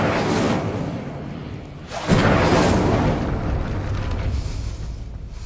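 Incendio fire spell cast in the video game Hogwarts Legacy, a loud whooshing burst of flame that swells suddenly and then settles into a sustained roar with no talking.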